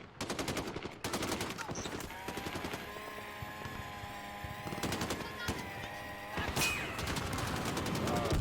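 Rapid bursts of video-game gunfire, automatic weapons rattling continuously with sharper single shots scattered throughout, loud and busy.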